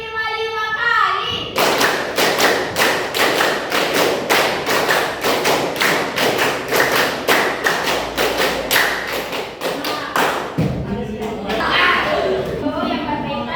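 A class of schoolchildren claps in unison during a counting clap game in a lesson, a steady run of loud, sharp group claps over several seconds, starting after a brief pause and ending abruptly, with faint voices at the edges.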